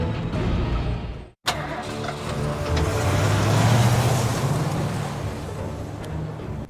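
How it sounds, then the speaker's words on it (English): A truck engine in the video game Survival Instinct cranks after a brief silent gap, then settles into a steady, loud running rumble that swells and holds to the end, with no talk over it. "Let's start the damn truck!"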